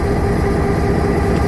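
The Ella Odyssey train runs along the railway near the Nine Arch Bridge in Ella, Sri Lanka, making a loud, close, continuous low rumble.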